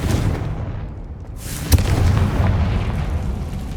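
A Confringo fire spell explodes in the video game Hogwarts Legacy, one sharp, close blast near the middle, set against a steady low rumble of game ambience with no speech.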